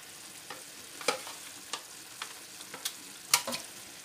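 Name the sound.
aubergines cooking in a pan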